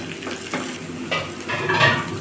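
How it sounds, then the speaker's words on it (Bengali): Onion frying in two tablespoons of oil with a teaspoon of panch phoron for singara filling, a close, steady sizzle broken by several soft scrapes and clinks of a spoon stirring in the pan, with no voices. "পেঁয়াজটা দিয়ে আমি ভালোভাবে ভেজে নেব"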